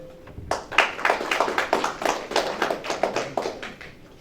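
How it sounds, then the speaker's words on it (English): An audience breaks into applause at a Hmong community gathering after a short quiet lead-in, the scattered clapping swelling into a steady patter that holds to the end. "So please help me and give a round of applause, for them to be here today."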